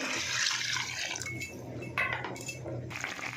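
Water poured into a cooking pot before fish goes in, a quiet trickling splash at first, then a few brief clattering knocks and splashes near the end, with no voices.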